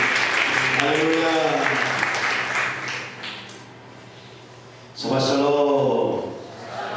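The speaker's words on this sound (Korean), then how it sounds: "하나님의 박수 드리겠습니다." A church congregation breaks into warm, sustained applause, rising again after a short lull, with voices calling out over the clapping.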